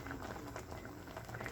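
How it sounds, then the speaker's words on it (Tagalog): Vinegar and water broth for pinais bubbles in a pot, a quiet, steady simmering patter with small pops. "Ayan, kumukulo na."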